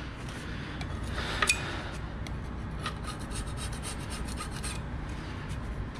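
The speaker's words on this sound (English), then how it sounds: "basically just go over with a scraper" A scraper dragged across the machined mating surfaces of a MINI Cooper transmission case, producing repeated close rasping scrapes of metal on metal at an uneven rhythm, with a couple of sharper clicks early on.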